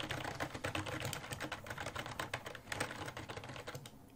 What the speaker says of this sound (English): Alright, this is the sound of it.